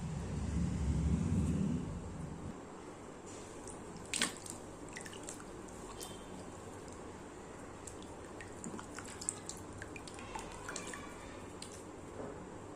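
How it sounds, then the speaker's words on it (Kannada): Someone washes their face with water: faint wet splashes, scattered drips and soft squishing sounds, after a low rumbling noise at the start, with no speech. "ಸೊ ನೋಡಿದ್ರಲ್ಲ, ಈಗ ಫೇಸ್ನ ವಾಶ್ ಮಾಡ್ಕೊಳ್ತೀನಿ."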